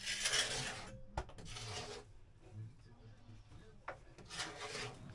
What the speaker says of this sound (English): I end up with a mixture of using the stripper and a scraper inside.